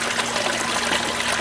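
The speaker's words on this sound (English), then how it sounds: "Got a lot of water coming in from the tubs." Water flowing into aquaponics tubs in a desert DIY setup with a venturi valve, a steady loud rushing and trickling that stays even throughout with no pauses.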